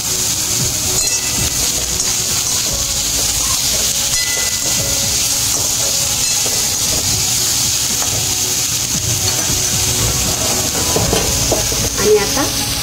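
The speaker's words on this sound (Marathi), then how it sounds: "आणि आता बारीक चिरलेले कोबी, व्यवस्थित परतून घ्यायचे आपल्याला हे भाज्या।" Carrots and cabbage sauté in a pan for spring roll filling, giving a steady, loud sizzle and hiss of frying throughout with stirring scrapes, alone and without talk.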